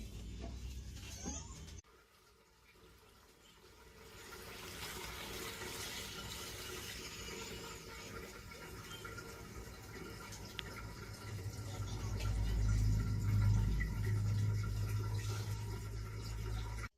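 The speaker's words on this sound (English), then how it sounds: "Now pouring the gunpowder tea that I brewed with the ginger root into the carboy." Brewed gunpowder tea with ginger root is poured into a carboy for rhubarb wine, a continuous gurgling, splashing stream that runs steadily and grows fuller and deeper toward the end.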